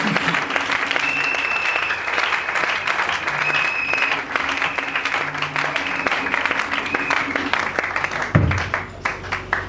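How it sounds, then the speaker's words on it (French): A church congregation at a gathering applauds loudly and continuously, dense clapping filling the space, with a faint voice and background music tones underneath. "Acclamons encore très fort."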